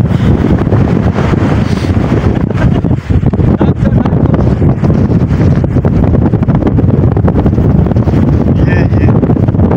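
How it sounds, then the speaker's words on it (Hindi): Strong wind on a hilltop roars loudly and continuously across the microphone, heavy gusty buffeting with a brief dip partway through and faint speech near the end. "यहां भी इतनी तेज हवा है"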